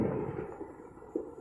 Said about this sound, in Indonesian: Suara petasan di mana-mana.